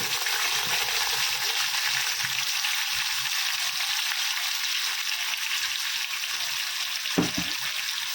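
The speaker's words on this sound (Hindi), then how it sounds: "अभी मसाले को अच्छे से भूनेंगे" Ground masala paste fries in hot oil with garlic, curry leaves and fenugreek seeds, a steady close sizzle with a brief clink of stirring near the end, no voices.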